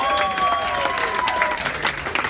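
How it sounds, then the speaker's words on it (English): A comedy-club crowd claps for a 21-year-old daughter on her birthday, a close, busy burst of applause mixed with whoops and voices over the top. "Give her a round of applause"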